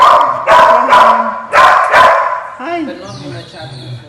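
A rescued dog on a holiday in St Lucia barks four times in quick pairs, loud and close, while people talk and call out to it over the barking.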